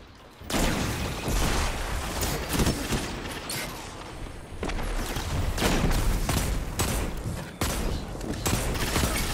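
Rapid gunfire from a Destiny 2 gunfight, dense bursts of shots and booms crowding one after another at close range, loud and almost continuous with brief lulls.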